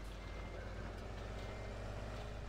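Truck reversing beeps in Farming Simulator 17, a steady run of backup alarm tones over a constant low engine drone, moderately loud with no speech.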